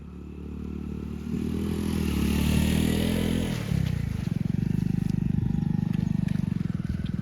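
A motorcycle ridden at full throttle through water high enough to touch its bumper: a steady engine roar that swells, then settles into a fast rhythmic chugging pulse.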